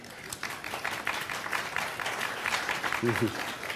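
A crowd claps steadily throughout, a dense wash of applause with a voice briefly audible near the end.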